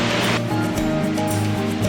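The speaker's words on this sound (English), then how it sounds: "contains the world's tallest indoor waterfall, standing at 35 metres" Water cascading down the world's tallest indoor waterfall, 35 metres high inside the glass-domed Cloud Forest, a dense, continuous roar close by with a sharper splash at the start.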